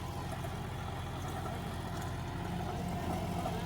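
A John Deere 50 HP tractor pulling an 8-foot rotavator through a field, its engine droning in a steady, unbroken low rumble at constant load, with faint voices underneath.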